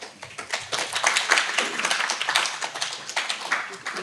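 At a ceremony for the first Separated Families Day, the audience breaks into dense, quick clapping that rises and holds at a moderate level to welcome a vice president stepping up to read the chairman's address.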